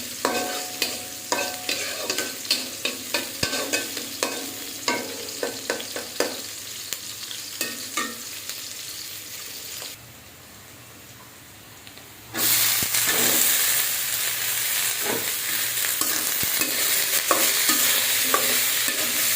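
Bitter gourd frying with salt in a pan, with rhythmic scraping strokes of stirring over a steady sizzle, a brief quieter pause, then a louder continuous hiss of frying; no voices.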